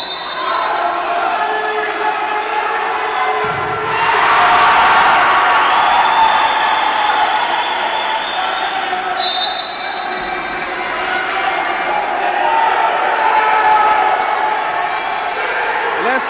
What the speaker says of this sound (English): listen to the crowd here at Calvert Hall.